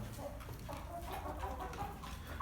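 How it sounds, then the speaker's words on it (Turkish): Chickens on their night roost cluck softly and intermittently in a quiet, low-level setting, with scattered faint calls and rustling. "İşte diğer tavuklarımız tünedi."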